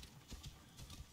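Horse hooves clip-clop in Assassin's Creed Origins, set in ancient Egypt, a steady galloping rhythm of soft thuds that is fairly faint and close.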